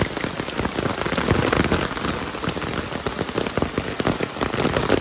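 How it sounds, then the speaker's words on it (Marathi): Rain falls hard and steadily on a Konkan roadside during the monsoon, a close, even roar of drops pattering on surfaces with occasional louder splashes and no talking. "पाऊस अगदी जोरात चालू झालेला."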